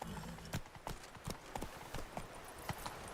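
A horse gallops in The Witcher 3, its hooves striking in a quick, steady clip-clop rhythm that stays close and clear throughout, with no voices over it.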